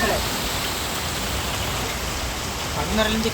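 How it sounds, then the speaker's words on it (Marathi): Heavy rain lashing down in a steady dense roar during a windy storm with hail in Chandur Bazar taluka, Maharashtra, over fields of wheat, orange and onion, continuous and loud with faint voices near the end. "गारपिटीसह वादळी वाऱ्याचा पाऊस पडला"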